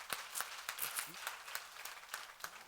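A church congregation gives a short, light round of applause, sparse claps spaced unevenly over a few seconds, faint and fairly distant, with a voice heard briefly.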